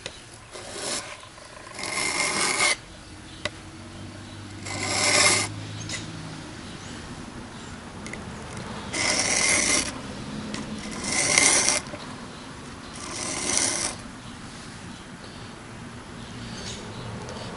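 An AUS8 tanto knife blade is dragged back across a sharpening stone in repeated rasping strokes, close and fairly quiet, with short scrapes separated by brief pauses.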